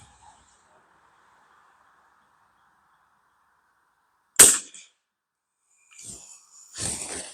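A single sharp gunshot cracks at a target from a shooting mat after several seconds of near silence. Faint rustling and a brief voice follow.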